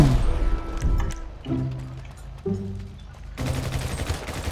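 Bursts of gunfire in the game GTA V, in zombie survival mode, rattle in quick volleys, with a heavy blast-like rumble and steady noise toward the end.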